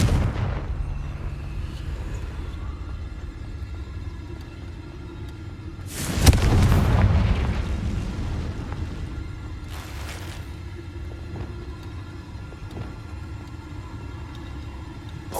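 A Confringo spell blast in the video game Hogwarts Legacy bursts out as one loud explosive crack with a rumbling tail, then a fainter second burst follows over a low steady background.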